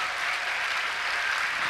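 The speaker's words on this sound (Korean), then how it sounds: "드림 어린이 크게 다시 한번 박수 한번 내주시기 바랍니다" Church congregation applauding after a children's ski drama performance, a steady dense wash of clapping filling the hall throughout, with no talk over it.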